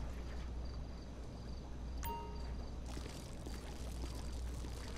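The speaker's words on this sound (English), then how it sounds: "To pour gasoline, equip the jerry can and hold R2." Gasoline glugging steadily from a jerry can in Grand Theft Auto V, a continuous liquid pour over low game ambience, with a brief bright chime partway through.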